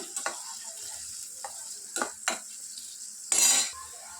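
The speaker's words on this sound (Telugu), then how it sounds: "ఇప్పుడు ఆనియన్స్ మంచి కలర్లో వచ్చేంత వరకు ఫ్రై చేసుకోవాలి." Onions with a half teaspoon of turmeric fry in a pan with a steady light sizzle, stirred with a utensil that gives a few scraping clicks and one louder burst of sizzle near the end, no talking.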